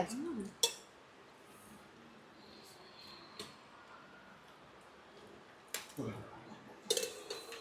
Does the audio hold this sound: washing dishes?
yes